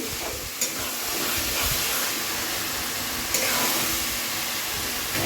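Water poured into a pan of bhetki fish bone charchari gravy after the spices have been fried down, a steady close sizzling hiss with brief louder bursts, no talk.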